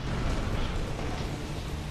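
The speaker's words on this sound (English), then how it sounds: "Suddenly there's an explosion and this guy's on fire." A loud, dense explosion roars in the Bulletstorm video game, a sustained broadband blast with crackling rumble filling the whole stretch without pause.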